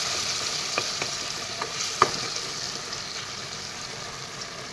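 Fish curry with taro and a splash of water is stirred in a pan, with a soft steady simmering hiss and a few scattered scraping taps of the spoon.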